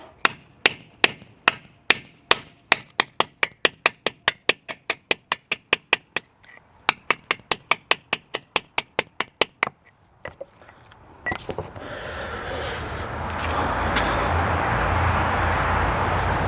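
A hammer chips old mortar from under a bluestone step in a fast, steady run of sharp, ringing strikes that stops after about ten seconds. A harsher, sustained grinding or cutting noise follows.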